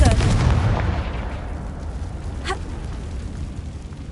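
A Confringo fire-blast spell in Hogwarts Legacy goes off as a loud booming burst at the start, then a rolling rumble that fades, with a sharp crackle midway.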